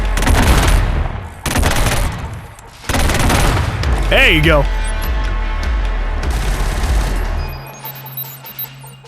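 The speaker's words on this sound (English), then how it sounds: "I want to call it a rocket launcher, but it's not a rocket launcher. It's a cannon." A heavy cannon fires in the video game Killzone: Shadow Fall with several loud, booming blasts in quick succession, each tailing off, followed by a rising electronic whine and a lingering low hum. Someone speaks briefly over it.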